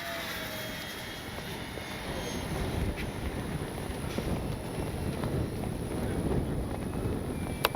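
An FMS P-51 Miss America RC model plane drones steadily at half throttle, a continuous engine whine over wind noise that stays fairly even and moderately loud throughout.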